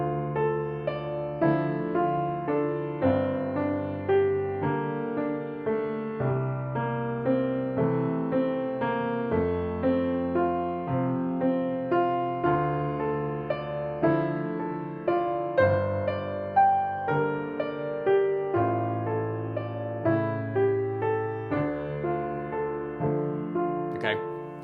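Solo piano playing Gurlitt's Elegy, Opus 172, strictly metronomic with no rubato or phrase tapering, steady even chords and melody notes at a moderate level throughout.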